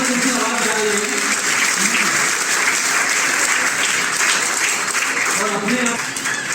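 An audience at a Hindi poetry recital during a devotional festival claps steadily in sustained, dense applause for several seconds, loud and close, with a voice speaking briefly over it near the start.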